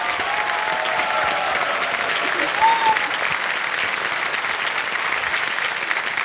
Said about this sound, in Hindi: अच्छा, एक बार जोर से ताली बज जाए आपके लिए।